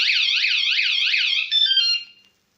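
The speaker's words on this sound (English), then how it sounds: "if you do it again, alarm goes off" A Kaabo Wolf Warrior 11 electric scooter's security alarm warbles rapidly and shrilly up and down, then switches to a steady tone before cutting off.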